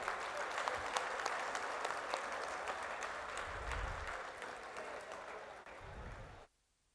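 At a book launch event, a large audience gives dense, sustained applause that stays even for several seconds before cutting off abruptly.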